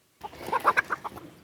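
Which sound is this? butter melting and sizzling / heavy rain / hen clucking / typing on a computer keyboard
hen clucking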